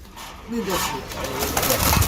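Pigeons at a pigeon sale give soft, rolling coos under nearby voices, with a busy market murmur filling the background.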